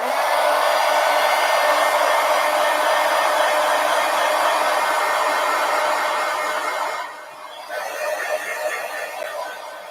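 A hair dryer blows on a mixed media collage, a loud, steady close-up whoosh that dips and shifts briefly near the end as the dryer moves.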